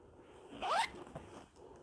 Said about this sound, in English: And the zippers do have a little leather pull.